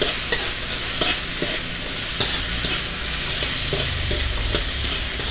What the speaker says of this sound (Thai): ก็จะผัดให้เข้ากันนะครับ